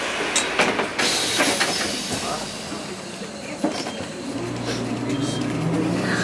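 Old Lisbon tram 28 rolling through the city streets: a continuous rumbling, rattling ride noise with clatters and squeals from the wheels and body, close and steady, with occasional voices.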